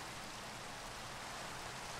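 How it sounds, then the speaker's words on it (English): Steady rain falling in a Minecraft ocean biome, a dense unbroken hiss of rainfall at even loudness throughout the short stretch, with no other sounds or voices. "Well, it's raining."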